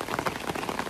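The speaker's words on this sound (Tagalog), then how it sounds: "The car is outside and it started to rain." Steady rain pattering on surfaces outside near a parked car, a dense close hiss of drops with no talk.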